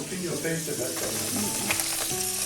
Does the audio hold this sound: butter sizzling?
yes